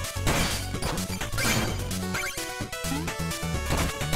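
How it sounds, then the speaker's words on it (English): Chiptune game music in Shovel Knight plays under a sharp crash as a save point is smashed, with a burst of breaking and clattering effects over the steady retro melody and no voices. "And I smashed the freaking save point."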